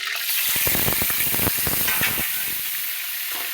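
Masala frying in hot oil with curry leaves, mustard and cumin seeds in a pan: a loud, close, steady sizzle and hiss, with crackling spatters and scraping stir strokes through the middle.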